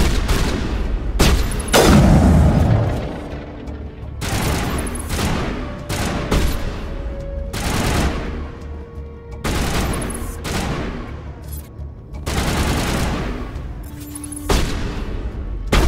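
Rapid gunfire crackles in Mass Effect Legendary Edition combat, loud repeated bursts of automatic shots in clustered volleys with short gaps, heavy thuds mixed in, and no talking.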